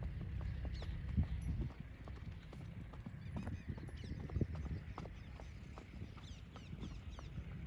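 A mare's hooves clip-clop in an uneven rhythm as she is ridden on a simple bit during single-foot gait training, the footfalls faint and somewhat distant, with scattered honking calls in the background.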